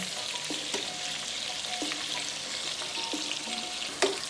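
Steady sizzling of potatoes and apples sautéing in a pan, with a few light clinks and scrapes of a utensil stirring; one sharper knock near the end.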